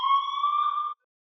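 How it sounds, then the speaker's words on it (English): A fire alarm sounds in a steady, loud electronic tone with sharp harmonics, lasting just under a second before cutting off abruptly into silence. "It looks like the fire alarm is going off."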